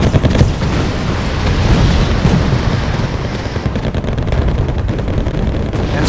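Dense, continuous gunfire and booming explosions in a war video game as Royal Marines are shot up, loud and unbroken throughout with no voices.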